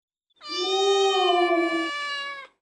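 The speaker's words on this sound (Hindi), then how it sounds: "ये तो बिल्ली की आवाज है।" A single cat gives one long, drawn-out meow, clear and close, rising slightly then holding before tapering off, with silence before and after.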